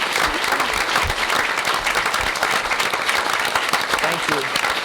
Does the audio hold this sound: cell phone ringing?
no